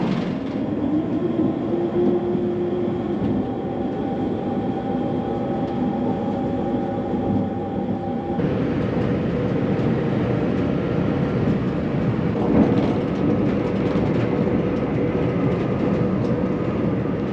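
Steady rumbling hum inside a moving train on the Isle of Man, with a constant low drone and faint rattling, no voices, continuous throughout.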